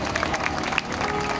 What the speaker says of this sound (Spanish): Dele un aplauso a Dios por él.